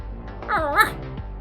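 A single dog bark in the Choices game Perfect Match, a short, clear, close woof with a rising-then-falling tone.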